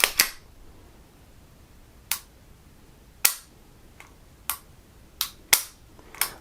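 Sharp, dry clicks of a Beretta 92 series pistol being dry-fired, several isolated snaps spaced irregularly over a quiet background, close to the listener.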